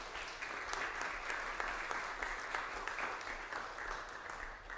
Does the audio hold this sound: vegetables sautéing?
no